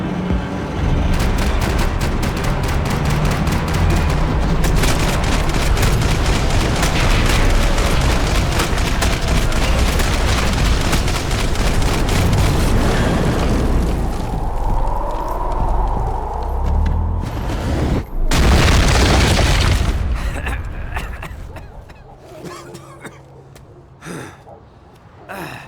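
Max Payne 3 combat, with dense, continuous gunfire and booming explosions layered into a loud, chaotic din that fades near the end.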